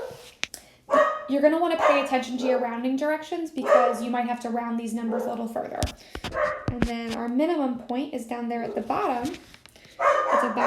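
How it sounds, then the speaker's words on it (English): Dogs bark intermittently in the background of a room while a person explains math steady and close, the barks brief and partly masked by the ongoing speech. "Sorry about my dogs."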